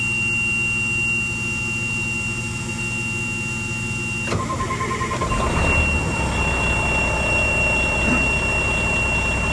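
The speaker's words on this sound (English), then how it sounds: "once I started the engine, the compressor's already starting to build the tanks" A steady electrical whine gives way to an engine cranking and catching, settling into a rumbling idle as an air compressor builds tank pressure, with a faint mechanical beep near the start.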